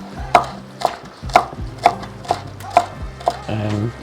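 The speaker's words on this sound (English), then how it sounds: "Just roughly chop" A knife roughly chops ingredients for goat meatballs on a board, with about eight crisp, evenly spaced thuds close by, ending in a short scrape.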